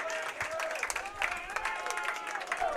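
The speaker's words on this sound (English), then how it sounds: "As the two coming off the field get a nice applause, Ariel Macias and Nate Nussbaum." Applause rises for soccer players leaving the field during a college match, with steady scattered clapping and crowd noise in the stands while a voice talks over it.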